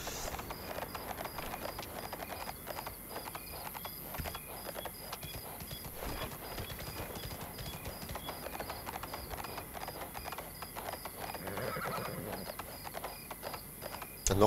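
A horse's hooves clip-clop at a steady walking rhythm on a smooth, even road in the horse-riding video game Ostwind, a continuous, moderately quiet clatter of regular hoofbeats with no talking over it.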